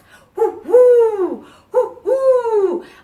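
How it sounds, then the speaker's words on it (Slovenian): An owl hoots in a children's song, two rounds of a two-part call with a short note followed by a longer, falling one, clear and close with no other voices. "Dve majhni sovici na drevesu sta sedeli"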